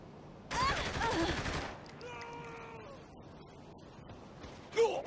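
Saints Row video game gunfire erupts as a loud burst of shots lasting about a second, followed by quieter game sounds, a voice and a brief sharp hit near the end.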